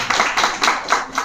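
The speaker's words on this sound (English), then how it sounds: "Clapping for them. Clapping, please." Students in an English class clap for a group of classmates, a brief burst of several soft claps at an uneven rhythm, close and fairly loud.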